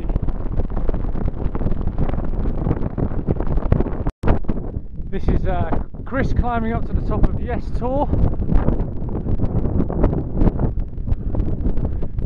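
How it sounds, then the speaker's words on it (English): Strong gusty wind buffets the microphone on the hilltop at Yes Tor on Dartmoor, a roaring constant rush with a brief dropout, while someone talks through it. "Still quite windy up here,"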